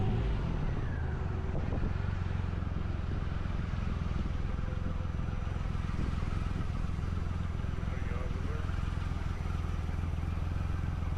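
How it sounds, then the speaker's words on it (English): Cars pour out along the main exit road from Dodger Stadium on a Wednesday night, a continuous low rumble of passing traffic with engines droning steadily throughout, heard from inside a nearby vehicle. "all those cars are coming out of Dodger Stadium"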